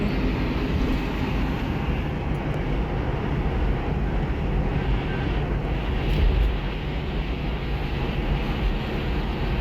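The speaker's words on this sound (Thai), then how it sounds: "เครื่องบินเครื่องบิน" A steady, loud broadband roar of airplane engines at Suvarnabhumi airport in Bangkok holds evenly throughout with no breaks.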